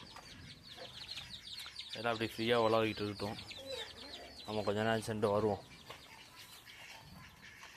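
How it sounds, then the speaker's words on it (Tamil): Hens cluck and call in a farmyard as a newly introduced hen roams with the flock, the birds' sounds coming in short bursts alongside someone speaking. "அது புதுக்கோழி இப்போ தான் வெளில வந்து பழகியிருக்கு"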